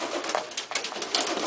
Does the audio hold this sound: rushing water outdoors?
no